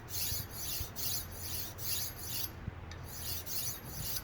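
A Wusthof boning knife is drawn against a sharpening steel in quick, rhythmic rasping strokes, about two per second, close and fairly quiet.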